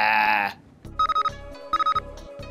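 A phone rings in a Nancy Drew video game, two clear electronic trills repeating in a steady pattern after a brief bright musical chime, close and loud with no talk over it.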